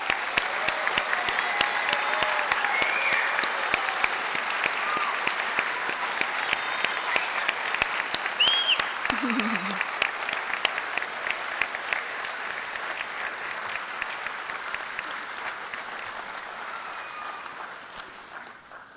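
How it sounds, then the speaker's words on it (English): An audience at a spring nursing pinning ceremony gives the graduates sustained applause, a dense wash of clapping that holds steady and then slowly thins out toward the end. "Let's give our graduates one more round of applause,"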